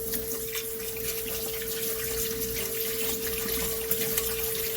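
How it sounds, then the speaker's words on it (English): The inside of a cracked eggshell is rinsed under a running tap, giving a steady close hiss of flowing water with a constant tonal hum and no talk. "I'm going to rinse out the inside of the egg, leaving the membrane intact."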